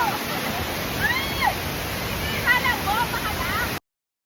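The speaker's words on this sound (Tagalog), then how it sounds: "We made it to Alitap Falls here in Pagbilao, Quezon." Rushing water at Alitap Falls in Pagbilao, Quezon, Philippines, after rain: a steady, broad roar of falling water, close and continuous, with faint bird chirps over it. The sound stops abruptly near the end.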